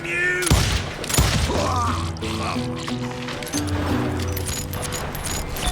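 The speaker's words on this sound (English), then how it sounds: "I heard the shots and I knew I had to move fast" Two sharp gunshot cracks from the Western shooter Call of Juarez: Gunslinger, fired about half a second apart near the start, then fading under steady game music and voices.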